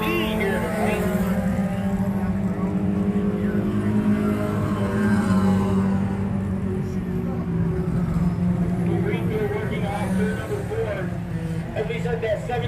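Race cars roar steadily down the backstretch of a Can-Am Speedway oval at night, a dense continuous engine drone heard under a commentator's talk.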